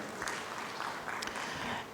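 An audience at a business forum attended by Presidents Magufuli and Museveni applauds in a brief, steady wash of clapping. It sounds faint and somewhat distant, with no talk over it.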